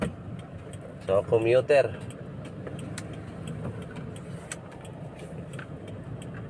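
Toyota Hiace van with a 2KD D4D diesel engine, previously low on power, running on a test drive; a steady engine drone under a brief spoken phrase and some whistling noise, with light rattles and clicks throughout.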